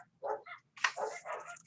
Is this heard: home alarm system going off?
no